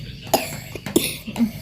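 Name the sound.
child coughing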